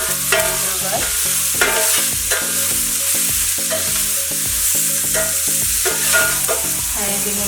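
Onions fry in a pan for Maggi noodles with vegetables, a loud, steady sizzle with stirring clatter under tuneful background music.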